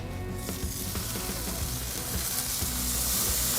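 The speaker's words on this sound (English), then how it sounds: "Place the tri-tip over the direct heat side of the grill, and we're just gonna give it a quick sear." Tri-tip beef searing over direct heat on a Kamado Joe Big Joe grill, a steady close hiss and sizzle with faint crackles, no talking.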